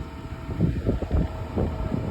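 Wind buffets a microphone outdoors on a day trip in Zaporizhzhia, low irregular rumbling gusts and thumps for about two seconds with no voices.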